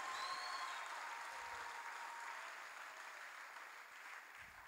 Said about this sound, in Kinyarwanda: Komera Imana amashyi ubyumvise neza.